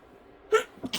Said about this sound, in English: I do have to sneeze.